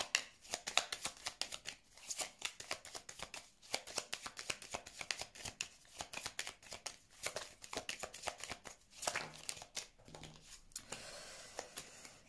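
Tarot cards shuffled and dealt out in a steady run of crisp riffling and flicking taps, close and fairly quiet, with no voices.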